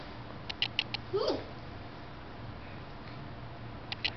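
A cat gives one short, faint meow amid quiet indoor room noise, with a few small clicks and taps before and after.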